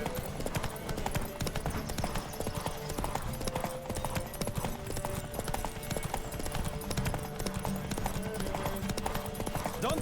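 Rapid galloping hoofbeats pound continuously in The Witcher 3 over a busy background of music and effects, with an occasional horse whinny.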